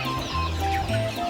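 Several chickens cluck close by at morning feeding in a steady, overlapping murmur, with a low hum running underneath and no talking.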